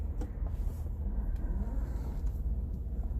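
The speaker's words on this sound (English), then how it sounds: "I don't know how I didn't realize that my car was still running." A parked car left idling with the keys in the ignition, its low steady engine rumble running continuously at moderate distance with no voices.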